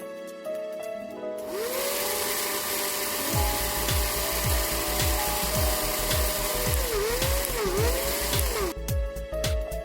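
A drill bores a 6.5 mm hole in MDF, whirring up with a rising pitch and then grinding steadily through the board with rough, rhythmic chatter before cutting off abruptly.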